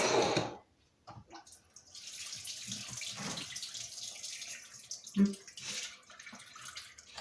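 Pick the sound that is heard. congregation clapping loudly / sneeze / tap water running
tap water running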